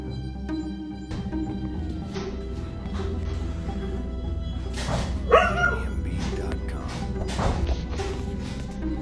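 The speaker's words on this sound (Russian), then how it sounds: "Слышен лай собаки." A dog barks in a house while knocking and banging come up from the basement, a few barks and yips rising over a steady low hum with scattered thuds, fairly distant and quiet.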